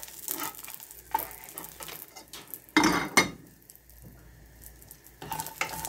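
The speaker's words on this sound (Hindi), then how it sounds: "इसमें हम ये लहसुन को छिलके से ही भून लेंगे।" Whole garlic cloves in their skins roasting in a pan while preparing Maharashtrian batata vada, giving soft sizzling with light stirring and utensil clinks, plus a louder burst of scraping and clatter near the middle.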